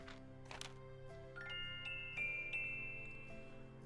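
A mantel clock chimes in the point-and-click adventure game Gabriel Knight: Sins of the Fathers, 20th Anniversary Edition, with bright tinkling bell tones ringing out one after another over a soft, sustained game soundtrack.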